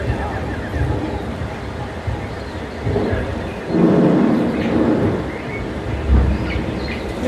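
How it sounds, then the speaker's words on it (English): Staged theme park storm effect on an old Mexico set: thunder rumbles swell and roll over a steady wash of rain-like noise, with crowd murmur and a voice talking over it. "There's the sound and lighting effects right now, making it sound like a big storm is a-coming."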